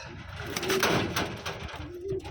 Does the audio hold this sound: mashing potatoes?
no